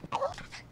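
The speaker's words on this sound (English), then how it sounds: "Good, because I have a small dog in my vehicle." A small dog gives a brief, close whimper with a rising whine in under a second.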